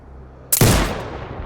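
A single sniper rifle shot rings out in Sniper Ghost Warrior Contracts 2: a loud, sudden crack followed by a booming tail that fades over about a second, alone against quiet ambience.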